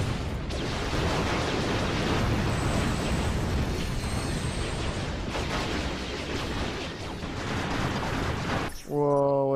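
Dense, sustained barrage of gunfire and blasts from the Ratchet Deadlocked video game, loud and continuous with no pauses, cutting off abruptly near the end.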